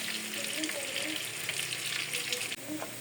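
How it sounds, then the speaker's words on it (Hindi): Close, steady sizzling of garlic and ginger frying in hot oil, with faint stirring clinks. "लहसुन अदरक हमारा चॉप किया हुआ अच्छी तरह फ्राई हो गया।"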